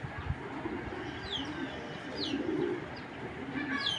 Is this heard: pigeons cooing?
yes